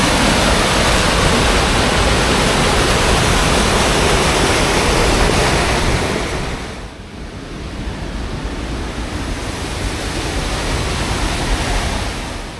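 Water rushes over a small river weir in high flow, a dense, loud, continuous roar that briefly softens midway before swelling again.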